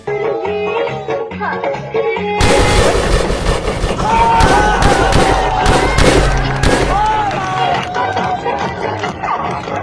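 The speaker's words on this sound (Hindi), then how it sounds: "भाई साहब तो बड़ी जबरदस्त बंदूक चलाते हैं" Loud gunshots crack out during a wedding dance amid blaring music and crowd noise, with several sharp bangs scattered through the busy outdoor din.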